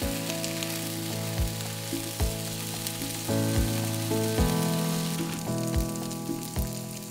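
Lean meat sizzles and fries in a hot pan, a loud, steady crackling hiss that runs throughout with a faint tonal background.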